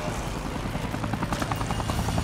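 A helicopter in Dead Rising thrums with steady rotor chop, loud and continuous, a low rhythmic pulse throughout with no voices over it.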